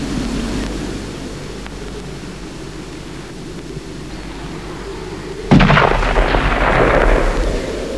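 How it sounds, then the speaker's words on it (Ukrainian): A low rumble of background noise, then a sudden loud blast of gunfire in a film scene that leaves a lingering roar and crackle behind it. "Люди добрі! Не стріляйте!"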